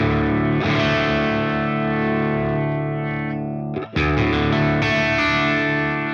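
An electric guitar runs through a Friedman IR-X amp with heavy distortion, holding a thick sustained chord. It cuts off briefly and then strikes again, loud and close, with no talking.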